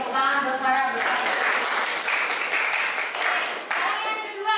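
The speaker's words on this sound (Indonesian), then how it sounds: "tepuk tangan buat para bersama" A school class bursts into applause for classmates, dense continuous clapping from many hands that stays steady for several seconds, with voices mixed in underneath.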